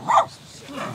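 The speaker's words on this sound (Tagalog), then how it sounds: "Ay, may aso." A single short dog bark sounds from a moderate distance on a mountainside, followed by quiet background.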